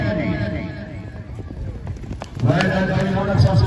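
Horse hooves clip-clop at a village tent pegging (neza bazi) event in Jhelum, a steady run of beats under an announcer's voice and crowd noise, growing louder toward the end.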